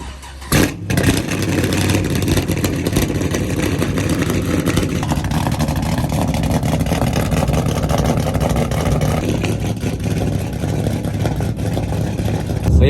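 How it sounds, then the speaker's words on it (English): A cammed Chevrolet Camaro SS engine rumbles loudly and continuously from inside the moving car, a deep steady drone with slight swells as it cruises, and no talk over it. "It was actually cammed at that same shop, so here's kind of a preview. I don't have the same cam, but this thing sounds cool."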